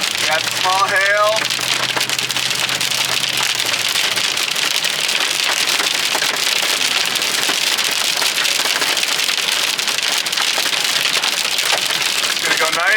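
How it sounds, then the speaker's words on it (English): Small hail pelting down in the heart of a tornado-warned storm during a chase, a dense, loud, continuous patter with no break, and a brief low hum and a voice-like sound near the start. "We got small hail."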